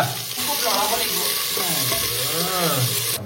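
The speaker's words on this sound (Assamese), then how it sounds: "এই জিৰা ফুটি গৈছে টপ টপ টপ হৈ গ'ল বোলে পিঁয়াজ ঢালা" Onions poured into hot oil with cumin seeds fry loudly, a close and constant sizzling hiss throughout with no speech.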